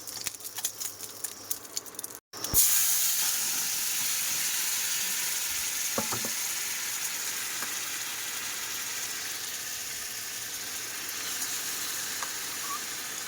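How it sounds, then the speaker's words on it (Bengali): Two eggs drop into a hot pan with a sudden loud burst of sizzling that settles into a steady, close crackling hiss, with a few faint clinks and no talking. "এই যে দেখো, দুটো ডিম ভাজি"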